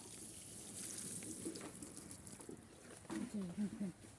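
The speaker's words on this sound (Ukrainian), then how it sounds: "Трохи поливаємо водою." Water is poured over a newly planted rhododendron, a soft splashing and trickling into soil that grows louder near the end, alongside a person talking.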